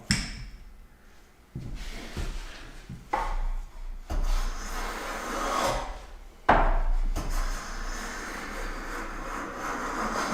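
A hand plane takes full-width shavings off a board in a woodworking shop, with several separate rasping strokes, each a rough swish of wood fibres, recorded close.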